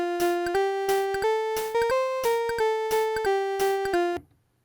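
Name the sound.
Casio PT-10 keyboard synth sound, unprocessed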